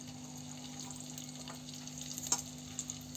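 One ripe red chili and two green chilies sizzle in hot oil for a village-style country chicken curry, a steady broadband crackle with brief louder pops near the end and a faint low hum underneath, close and continuous with no talking.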